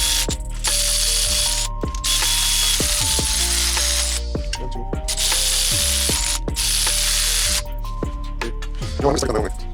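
Up close, a ratchet wrench clicks in quick repeated strokes as cam caps are torqued down on a K24 engine during a build, with short pauses between bursts and people talking over the work.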